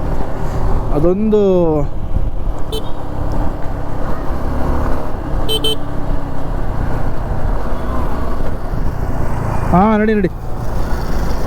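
A Suzuki V-Strom 250 SX motorcycle rides along with a steady engine and road rumble, close and constant, while a rider talks over it and passing horn-like tones sound twice.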